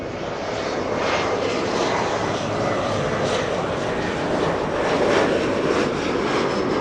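Airliner taking off from runway 24 left at Los Angeles International Airport, its engines a loud, steady broadband roar that holds for the whole stretch, swelling slightly toward the end with no voices over it.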